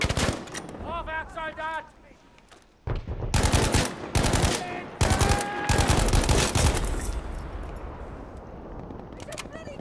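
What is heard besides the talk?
machine gun fire from a video game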